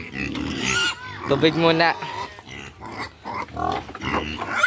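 Pigs on a farm being fed, grunting and squealing up close with loud, uneven bursts of noise while people talk over them throughout.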